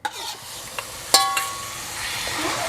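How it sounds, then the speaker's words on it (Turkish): Pieces of meat marinated for two hours in sauce hit a preheated pan for çökertme kebab, giving a soft, steady sizzle with a few light clicks and scrapes from stirring or a utensil against the pan. "Şimdi ısınmış tavamıza bırakıyorum etlerimizi."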